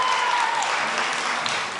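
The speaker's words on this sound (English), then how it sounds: "During a raucous meeting, parents brought signs and openly cheered" Parents at a raucous Keller ISD school board meeting break into applause and cheering, a steady wash of clapping that holds throughout and tapers slightly at the end.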